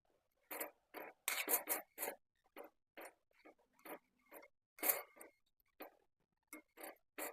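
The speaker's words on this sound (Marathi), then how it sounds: "याच्यावरती मी कोथिंबीर घालून छान असं मिक्स करून घेते" Coriander being stirred into a corn masala bhaji in a pan, a series of short scraping, rasping strokes of spoon against pan in an irregular rhythm, close and fairly quiet with brief pauses, no talking.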